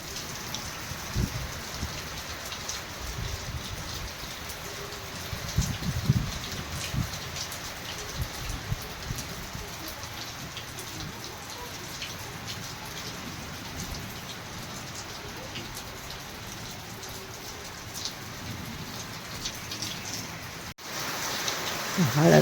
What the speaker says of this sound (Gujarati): અત્યારે પાછો વરસાદ ચાલુ થઈ ગયો